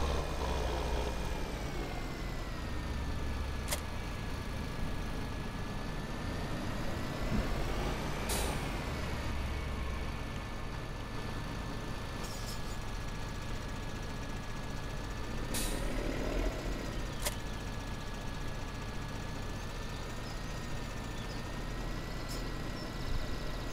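Tractor engines idle steadily in Farming Simulator 2013, a continuous low mechanical hum with a few sharp hissing bursts like air brakes, moderately loud and running throughout with no talking.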